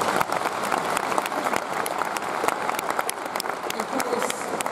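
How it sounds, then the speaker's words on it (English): Steady audience applause in an arena during a dressage masterclass with Carl Hester and Charlotte Dujardin at Olympia 2017, dense continuous clapping at moderate distance, no voices over it. "I think she can have a round of applause for"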